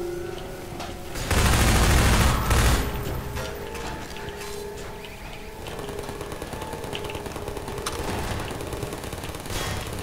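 Gunfire in the video game Half-Life 2, with a loud burst of automatic shots early on followed by continuous mechanical clatter and scattered lighter firing under game ambience.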